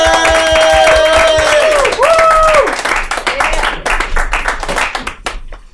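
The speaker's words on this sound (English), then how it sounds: "Give a round of applause for Alex Aceves" A comedy club crowd applauds as a comedian from Wisconsin is brought to the stage. A voice whoops and cheers loudly over the opening, then close, brisk hand claps carry on and gradually loosen.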